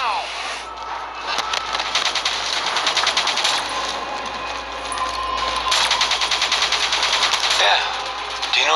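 Rapid minigun fire from the video game Call of Duty Black Ops 3 rattles in dense, sustained bursts with brief lulls, loud and close amid game effects, with speech-like voices mixed in.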